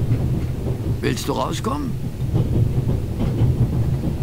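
A train in the video game The Raven, set on a burning train, gives off a heavy, continuous low rumble and rolling roar as it brakes, while a voice speaks over it.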